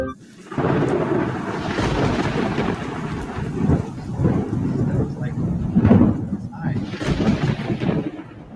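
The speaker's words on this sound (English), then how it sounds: "If you guessed thunder and lightning, you are correct." A thunder and lightning storm fills the air with continuous rain and rolling, rumbling thunder that swells in several heavy peaks, loud and steady throughout.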